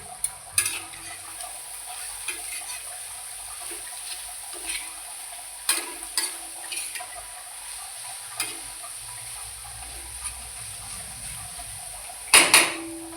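Fork or whisk clinking against a bowl while beating omelette egg mixture with salt, with scattered light taps and a steady faint hiss from the pan, plus a louder clatter near the end.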